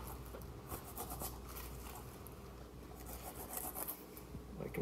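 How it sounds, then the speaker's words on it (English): A knife cuts at an angle through the beveled bottom edge of a pineapple, making a soft, continuous rasping and scraping close up with a few faint ticks. No one speaks. "now I'm gonna get at an angle to cut off kind of that beveled edge at the bottom."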